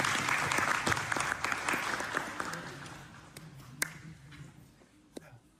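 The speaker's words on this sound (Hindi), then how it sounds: "तालियां बजा दें।" An indoor audience at a political election gathering breaks into applause, a dense burst of clapping that starts full and gradually thins out over several seconds, with a few scattered late claps near the end.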